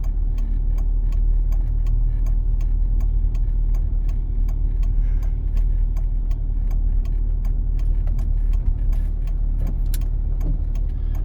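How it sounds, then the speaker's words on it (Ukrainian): A car's right turn signal ticks in a steady, even rhythm inside the cabin, clicking throughout over the constant low rumble of the engine and road noise on a Dnipro city driving route. "Вмикаємо правий покажчик повороту"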